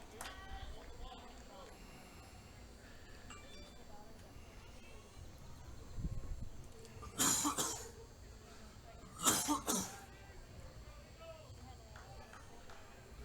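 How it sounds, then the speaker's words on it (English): A high school baseball commentator calling a Cedar Park Timberwolves versus Georgetown Eagles game coughs, two sharp close bursts a couple of seconds apart between stretches of quiet talk. "The coughing is starting."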